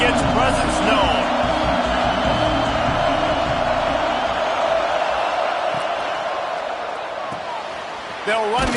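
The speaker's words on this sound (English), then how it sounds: "This crowd ready to make its presence known." A college football video game plays a dense, steady roar from a stadium crowd, loud and continuous, with a faint commentator voice mixed in underneath.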